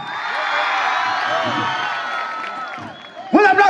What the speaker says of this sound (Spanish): Un aplauso, primer lugar.